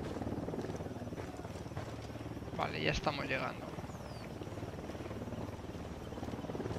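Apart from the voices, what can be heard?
helicopter approaching in Ghost Recon video game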